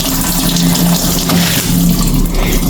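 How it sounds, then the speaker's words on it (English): Water sloshing and pouring as a garment and wash water are tipped into the tub of a Samsung top loader washing machine, a steady close splashing flow without talk. "the water and the garment gets into the tub"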